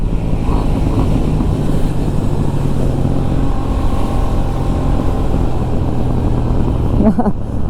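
A motorcycle revs hard during a wheelie on a Sunday superbike ride with a Kawasaki Z900 and KTM 890 Duke R. Its engine drones loudly and continuously under heavy wind buffeting on the microphone.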